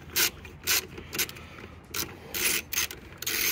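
A ratchet with an 8 mm socket clicks in short bursts while bolts are loosened on a 1987 Mercedes 300D W124, several quick rasping ratchet strokes close by with brief pauses and no talk.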